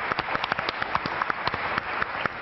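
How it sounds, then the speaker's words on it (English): Audience at a startup pitch competition claps after a presentation; individual hand claps stand out sharply over a thin, scattered patter, sounding like a modest crowd applauding close by. "another round of applause for Duet"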